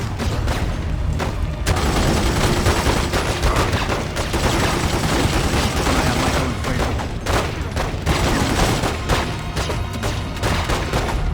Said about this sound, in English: Okay, Tommy gun.